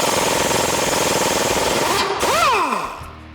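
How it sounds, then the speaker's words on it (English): A power tool on a Toyota Tacoma spins off a castle nut with a 19 mm socket, giving a loud, continuous rattling hammer that winds down with a whining pitch drop and stops. "Now you're going to take a 19 millimeter socket and remove this castle nut."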